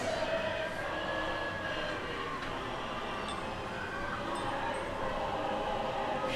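A steady, continuous rumble and clatter of a Kennywood amusement park train ride rolls on without pause, with faint squeaks and distant crowd murmur blended into the dense background.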